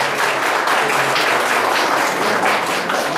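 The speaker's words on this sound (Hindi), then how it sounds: "तालियां अभी भी वैसी नहीं आ रही है," Applause from the audience at a best teacher award ceremony in Chamba, a steady dense clapping that stays loud and even throughout, with no voices over it.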